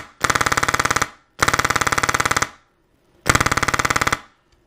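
A PolarStar F2 airsoft gun running on about 80 psi air fires three loud, close full-auto bursts, each a rapid even stream of sharp cracks lasting about a second, with short silent gaps between them.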